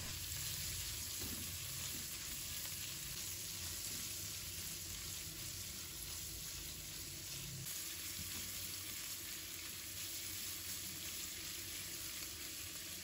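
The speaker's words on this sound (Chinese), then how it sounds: "炒香后，再把瘦肉倒入锅中，把瘦肉煸炒至变色。" Lean pork stir-fries with sliced garlic in a hot wok, giving a steady, close sizzle broken by the occasional scrape of stirring.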